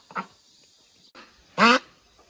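A pet duck quacking: a short quack, a brief pause, then a weaker call and a loud, raspy, drawn-out quack, close by with quiet between the calls.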